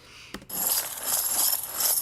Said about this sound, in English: Do you hear all those keys on this officer?